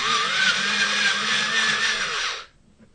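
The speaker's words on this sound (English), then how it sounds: "I use an electric sharpener" Steady, close whirring grind of an electric sharpener working a charcoal pencil point, holding for over two seconds before cutting off abruptly into quiet.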